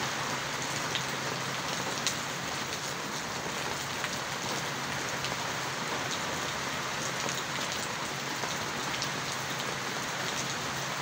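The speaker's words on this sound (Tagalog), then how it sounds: "Kahit umuulan." Steady rain pouring down while laundry is being washed outdoors, a dense even hiss of drops on surfaces that holds constant throughout, with no voices.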